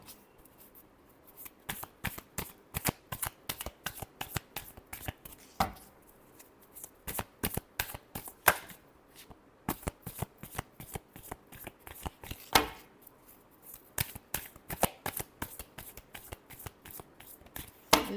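Tarot cards being shuffled by hand in a steady run of quick riffling slaps, close and clear, with a few sharper flicks and no voices.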